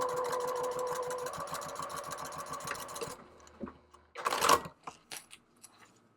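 A sewing machine runs steadily, stitching rows on a drawstring bucket bag, then stops and gives way to a few scattered handling clicks and rustles.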